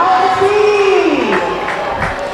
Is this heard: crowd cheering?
yes